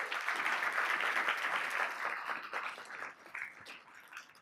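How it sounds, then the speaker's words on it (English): An audience at a regional business luncheon applauds steadily, a dense wash of clapping that fades gradually toward the end. "Please, a round of applause."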